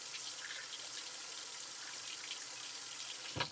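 Cold or hot tap water runs steadily from a faucet, a constant broadband hiss holding level throughout, ending with a brief clunk near the close.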